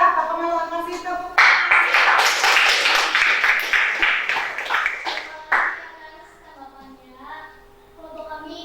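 Classroom pupils clapping together for a group presentation: a dense, lively burst of applause lasting about four seconds, with voices speaking before and after.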